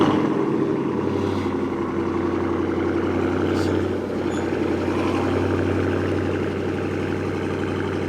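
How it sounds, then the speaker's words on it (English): A 2019 Dodge Challenger R/T with its mid muffler deleted runs as a loud, steady, close-up exhaust rumble for the whole stretch, with no voices. "I'm gonna go ahead and start this car up real quick"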